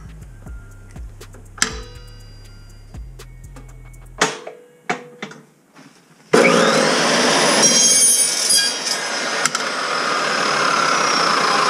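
A RIDGID 614 dry cut saw slices through metal: clanks and handling knocks over a low hum give way to a loud, sustained, harsh grinding screech that continues to the end, close up with no talking.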